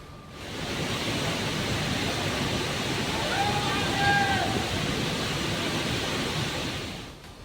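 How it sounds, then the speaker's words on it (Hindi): Monsoon waterfall in heavy rain, overflowing its ancient pool and flooding the Kedareshwar Mahadev temple grounds, gives a steady, loud wash of roaring water that holds unbroken for several seconds before tailing off. "झरना इतना भयंकर उफान पर था कि झरने के नीचे प्राचीन कुंड के ऊपर से बारिश का पानी पूरे मंदिर परिसर में बहता दिखाई दिया"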